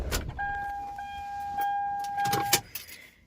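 A 2003 Toyota Avalon XLS engine is switched off from inside the cabin. A brief low rumble gives way to a steady electronic warning chime, with a few clicks and rustles close by.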